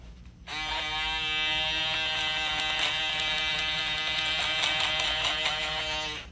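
An electric shaver buzzes steadily up close, a bright droning hum that holds level for several seconds with no talking.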